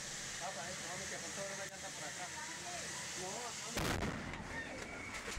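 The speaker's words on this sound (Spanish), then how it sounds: "Posteriormente explota una vez que el fuego alcanza el motor donde se encuentra la gasolina." A burning car explodes in a workshop near a residence as fire reaches the petrol at the engine, a sudden loud blast bursting out late over crackling, hissing fire noise, with voices talking underneath.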